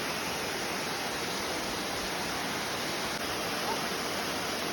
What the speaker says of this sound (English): So here is the waterfall.